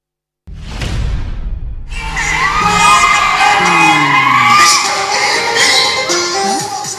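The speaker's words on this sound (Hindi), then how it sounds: "सैकड़ों की भीड़, गानों के बोल पर झूमते लोग।" A crowd of hundreds at a quarantine centre cheers and shouts loudly while dancing to songs, with a whooshing burst at the start and then continuous, close, dense whoops and yells.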